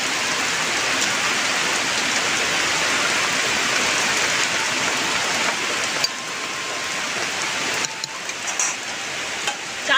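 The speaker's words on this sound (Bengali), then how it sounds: "ঝিমঝিম বৃষ্টি। এই তো শুরু হয়েছে আজকে কটা দিন।" Steady monsoon rain pours onto trees outdoors, a continuous, dense hiss of drops with no letup, fairly loud and close throughout, with a few faint knocks near the end.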